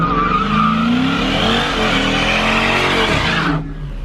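A street-racing car on a public road does a burnout, with engine revving hard and tires squealing loudly and continuously for about three and a half seconds before cutting off abruptly.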